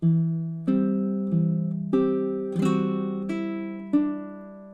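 A baritone ukulele is played fingerstyle at a slow pace: six plucked notes and chords, each ringing clearly and decaying before the next, close and alone.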